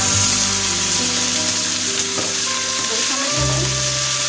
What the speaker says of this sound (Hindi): ये सब अनियन पहले फ्राई कर लेते हैं तो इसे लाइट गोल्डन फ्राई